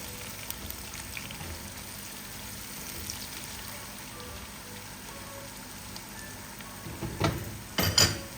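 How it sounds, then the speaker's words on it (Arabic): Onions softening in oil with dried peppers for a Kurdish stew. A faint, steady sizzle runs throughout, then two louder stirring scrapes come near the end. "فعنا هون بصل بلش يدبل معنا، رح اضيف فوقه الفليفلة المجففة وحركها شوي"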